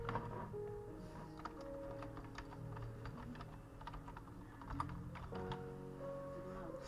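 Keyboard keys clatter in quick irregular bursts while someone names a new Minecraft Bedrock Edition world, soft clicks running steadily over a faint background hum and music.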